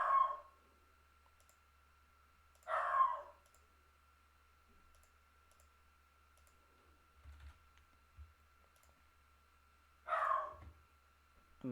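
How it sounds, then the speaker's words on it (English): A dog barks in three short, separate bursts spaced seconds apart, each a quick double yap, over a quiet room with a faint hum. "my dog is barking"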